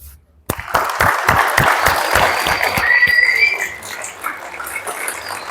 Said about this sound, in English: All right, good job, everybody. Clap your hands.